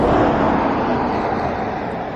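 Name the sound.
road traffic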